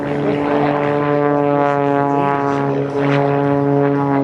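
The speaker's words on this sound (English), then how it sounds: "Watch how he bends the airplane around right at the top and really comes straight back down on the 45." A stunt airplane's propeller engine drones loudly and steadily through an aerobatic maneuver at an airshow, its pitch holding with a slight dip near the end.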